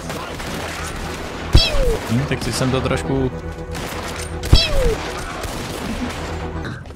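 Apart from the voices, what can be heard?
gunshots in a video game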